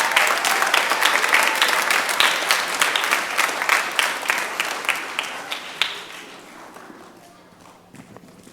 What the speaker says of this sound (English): let's give Officer Aini, you probably saw him in our slideshow as well, a round of applause